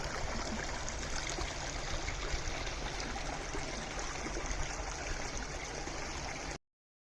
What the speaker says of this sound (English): Just a short walk away from this latest remediation project is where water flows from Kaercher Creek Lake into the stream.